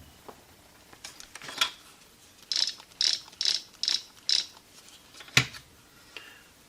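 TA-1/PT Vietnam-era field phone signalling with its volume dial set halfway, giving a short series of moderately loud buzzy pulses in a quiet room.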